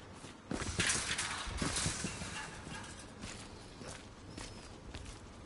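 Footsteps running across ground in a military shooter video game, rapid irregular steps at moderate distance under a steady background of game ambience.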